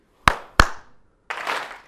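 On a stage, a presenter's hands give two sharp, close claps about a third of a second apart, then a longer, noisier burst of sound follows after a short pause.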